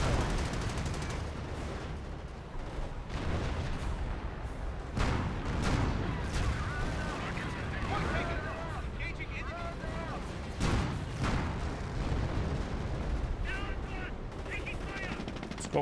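Gunfire crackles in a Company of Heroes battle, with sharp shots and bursts including sniper rifle fire, set among rumbling explosions and battle noise, while a commentator talks steadily over the action.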